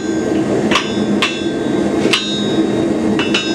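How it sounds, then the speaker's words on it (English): Four sharp hammer blows on a forged leaf keyring at the anvil, evenly spaced ringing strikes, loud and close with no talking. "on its diagonal with 2 or 3 hammer blows"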